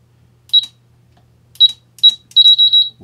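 Keypad on a Blacksmith SFO203PRO vertical-mount bedside pistol safe, with single electronic beeps followed by a quick run of four more beeps, crisp and close against near silence.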